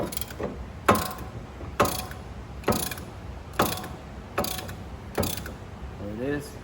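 A ratchet wrench clicks in six evenly spaced bursts while loosening brake caliper bolts on a 2006 Infiniti, close and clear over a low background.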